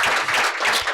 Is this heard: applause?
yes